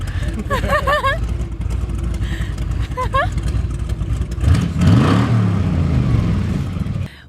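A 1961 Cadillac engine idles with a low rumble under brief talk, then revs up loudly for a couple of seconds with a rising, sweeping roar before cutting off abruptly.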